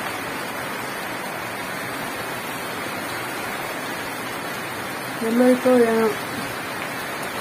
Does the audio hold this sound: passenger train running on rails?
no